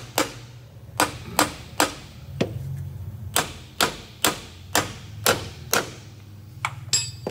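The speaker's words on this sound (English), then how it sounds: "I'll take a hammer. And go all the way around the clamp to make sure that it's seating down against the brake chamber" A hammer striking repeatedly around a clamp on a truck brake chamber, a dozen or so sharp metallic taps at an uneven, roughly one-per-half-second pace, close and loud against a low background hum.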